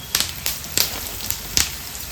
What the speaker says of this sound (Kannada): ಸ್ವಲ್ಪ ಕೆಂಪಾಗಿ ಹುರ್ಕೊಂಡಾದ ಮೇಲೆ 2 ಚಮಚದಷ್ಟು ಧನಿಯಾಕಾಳನ್ನು ಸೇರಿಸ್ಕೊಂಡು ಫ್ರೈ ಮಾಡ್ಕೊಳ್ತೀನಿ